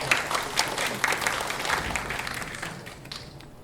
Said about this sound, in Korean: 우리 곽수아 교수님 뜨거운 박수로 환영해 주시기 바랍니다